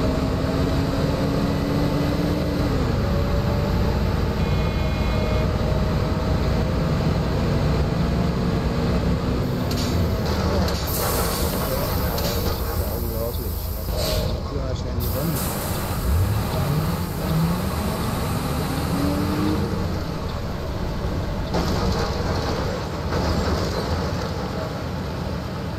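An Apache S21 Volkswagen city bus drives at night in the OMSI 2 simulator game, with a steady engine drone that rises and falls through gear changes, plus occasional clunks and hiss, heard without talk.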